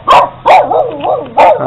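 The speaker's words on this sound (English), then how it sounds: "And there's our friendly dog." A friendly farm dog at a rural home and food-processing site in the Philippines gives three sharp, close barks. Short whines and yips fall between the barks.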